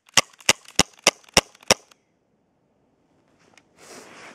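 A Crosman AirMag C11 airsoft gun fires six sharp, evenly spaced shots through a chronograph in quick succession, close and crisp, followed by quiet and a faint rustle.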